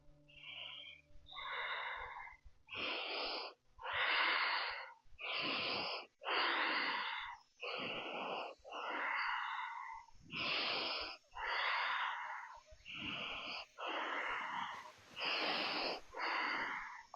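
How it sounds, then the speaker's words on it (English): Deep, slow breaths during a postnatal yoga session, each inhale and exhale a long airy rush, repeating in a steady rhythm of about a dozen breaths, close and fairly loud with no talking. "Breathe in, out, in"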